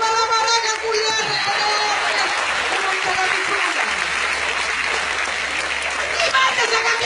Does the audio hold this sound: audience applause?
yes